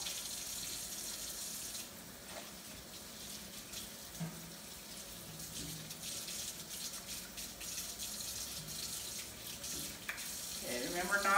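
A faucet runs steadily during handwashing for a nursing-assistant skills routine, a continuous hiss of water splashing into a sink, fairly soft and unbroken throughout.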